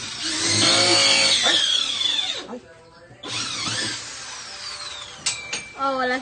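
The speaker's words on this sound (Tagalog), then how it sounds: "Pag-usapan natin yung barena." A power drill whines up to speed and winds down in repeated bursts while a wardrobe is being built, loud and close, with a short pause between runs and people talking around it.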